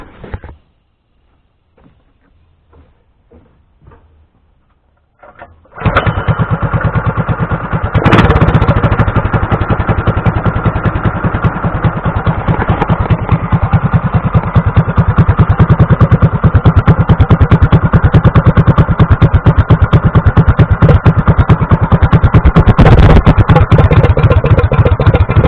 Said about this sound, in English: let me see if I can get this bad boy fired up. See, y'all can give it a listen